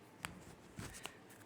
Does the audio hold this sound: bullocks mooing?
no